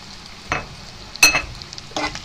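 Methi leaves fry in a pan, a low sizzle broken by three quick scraping stirs, one with a bright metallic clink, close up and with no voices.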